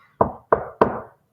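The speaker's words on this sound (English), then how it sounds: "he knocked on the door" Three firm knocks on a wooden door, evenly spaced about a third of a second apart, close and clear against silence.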